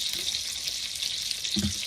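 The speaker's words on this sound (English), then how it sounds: "I want to give that a shake and make sure that's all mixed up" A container of liquid mixture for chicken parmesan is shaken to blend it, giving a continuous wet sloshing rattle with a slightly heavier slosh near the end, close and without speech.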